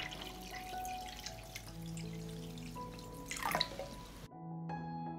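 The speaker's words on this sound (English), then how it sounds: "I pour water into the pot up to the height of the lid." Water poured into a pot holding jars on a cloth at the bottom, filled to the height of the lids for pasteurizing; a steady close trickle and splash runs alone, with a tonal musical bed underneath, then cuts off briefly near the end.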